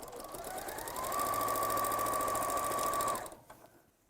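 A sewing machine runs steadily, stitching lining and outer fabric together, its fast mechanical whir holding a constant pitch for about two seconds before it slows and stops.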